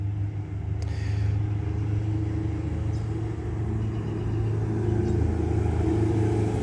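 Loud Camaro rumbling as it drives past outdoors, a steady deep engine drone that swells slightly, heard from a short distance without any voices.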